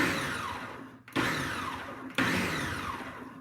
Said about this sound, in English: It's only gonna take 2 seconds to blend.